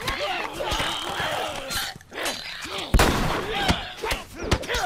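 Gunfire in The Last of Us game, several sharp loud cracks scattered among clattering action sounds, with a startled player talking and exclaiming over them.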